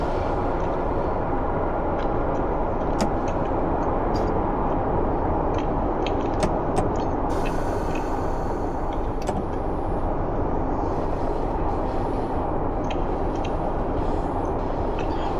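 Steady low rumble of a train rolling into Torquay station in Train Sim World 6, a continuous loud drone with faint high squeals and clicks from the wheels, and no voices.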